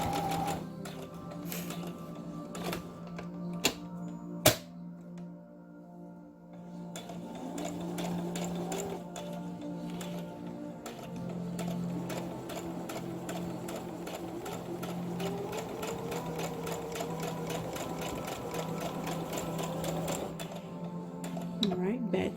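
A sewing machine stitches forward and then back stitches along a shirt ruffle, a steady close mechanical whir with a few sharp clicks near the start, running continuously under quiet speech.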